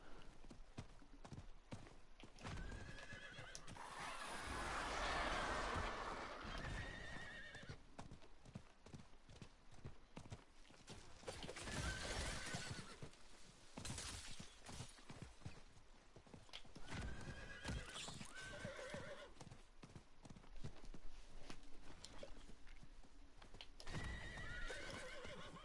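A horse in the Diablo 4 video game neighs while its hooves clip-clop steadily at a walking pace, with whinnies rising over the quiet, even hoofbeats and no talking.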